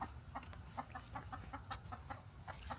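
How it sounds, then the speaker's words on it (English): A chicken gives a run of soft, rhythmic clucks, quiet and fairly close, repeating steadily with no talking over it. "And there's the chicken."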